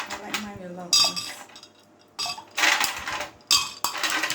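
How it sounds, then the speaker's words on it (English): Apple cider drink packed with lots of ice being stirred in a glass, with bursts of clinking and rattling ice against the sides, loud and close, separated by brief pauses. "Put lots of ice inside. Stir, stir, stir."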